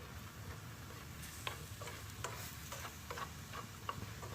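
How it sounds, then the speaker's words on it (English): Spatula stirring chopped tomatoes through a tofu scramble in a pan, a soft steady sizzle under scattered light scraping clicks and taps, fairly quiet and close, no talking. "I'm going to stir those in."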